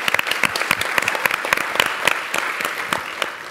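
An audience at an energy startup pitch event applauds, a dense, even wash of many hands clapping continuously at moderate loudness with no talking over it.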